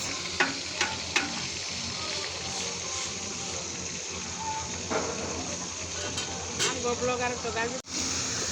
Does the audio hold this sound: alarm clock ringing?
no